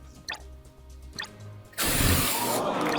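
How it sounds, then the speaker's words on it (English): After a few soft knocks, a fire extinguisher suddenly bursts out a loud pressurized spray that keeps hissing steadily to the end. "So you just take the spray, point it at the base of the fire, and squeeze the trigger."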